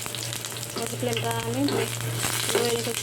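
Whole cumin seeds, a dried chili and bay leaves crackle in hot oil over the flame, a continuous close sizzle and spatter while someone talks over it.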